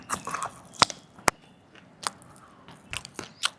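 Close, crisp bites and crunches of junk food eaten for ASMR, a few sharp snaps spread over several seconds with softer chewing and rustle between them, no talking.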